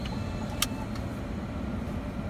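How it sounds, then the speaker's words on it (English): A car engine rumbles steadily close by outdoors, a constant low drone with a couple of brief higher clicks or squeaks early on, and no talking over it. "Yes, I know there's a car behind me."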